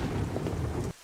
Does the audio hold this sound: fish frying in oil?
no